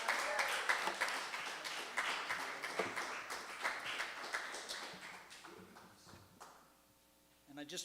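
A seminar audience claps at the close of a spiritual talk: dense, quiet applause runs for about six seconds, then thins and fades out.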